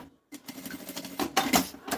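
A sewing machine stitches a seam on a small zippered cosmetic case, giving faint, irregular bursts of mechanical clatter and rattling at close range.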